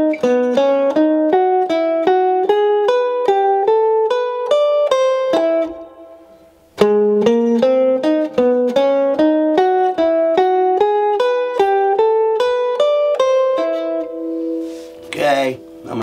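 Clean guitar playing a steady stream of single-note II V I lines over a chord progression, an even, quick rhythm broken by a short pause midway, close and clear with no talk.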